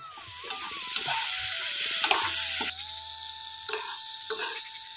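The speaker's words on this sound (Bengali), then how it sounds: "এখন আমি খুব ভালো করে মশলাটা কষিয়ে নিয়েছি, আর আলুটাও মশলার সঙ্গে খুব ভালোভাবে কষানো হয়ে গেছে।" Spice paste and potato pieces fry in a pan, a bright continuous sizzle with scraping stirs and a few clinks, the hiss dropping in intensity partway through.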